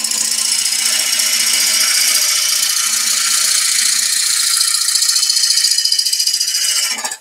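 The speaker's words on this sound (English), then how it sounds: "I'm now turning up the speed and just checking the lathe, making sure things aren't moving around too much." Wood lathe spinning a potpourri pot blank with a tool cutting the outside edge, producing a loud, steady whirring scrape with a rapid rhythmic flutter, stopping abruptly at the end.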